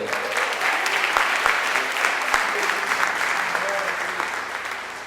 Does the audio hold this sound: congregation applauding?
yes